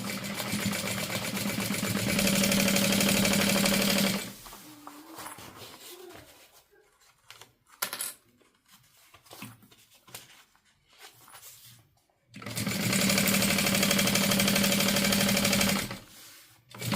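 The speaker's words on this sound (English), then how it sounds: "I'm just going to sew this together, basting it at 1/8 of an inch." A sewing machine basting a fabric seam runs in a steady, busy whir for about four seconds, stops through a stretch of quiet handling noises, then starts again for another long steady run.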